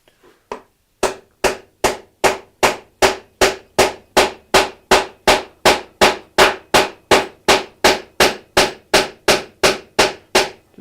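A hammer drives an epoxy-coated wooden spline into a mitered window joint. Loud, evenly paced blows land about two or three per second, over two dozen in a row, close and alone.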